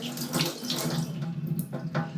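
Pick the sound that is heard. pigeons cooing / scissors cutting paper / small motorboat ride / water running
water running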